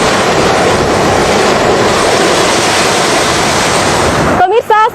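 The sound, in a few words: waves on the west coast beach of North Sumatra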